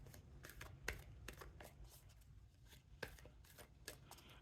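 Deck of oracle cards being shuffled by hand, a quiet run of soft riffling bursts and taps coming in uneven flurries, close and alone with no talk.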